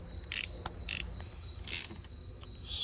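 A 10mm socket ratchet tightens a battery terminal on a 2012-2015 Honda Civic Si, giving a few short, close, fairly faint clicking bursts over a quiet hum.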